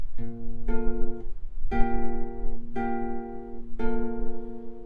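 An acoustic guitar plays a slow intro of plucked chords from a song, each ringing out and sustaining before the next, about five strums in steady rhythm.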